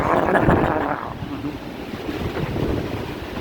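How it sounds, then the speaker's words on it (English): Hurricane Ian winds roar around a house in strong, rushing gusts with heavy buffeting noise, loudest at first and then easing into a steady blustery rumble, with no one speaking. "Oh wow, there was a big gust of wind over there at the other house."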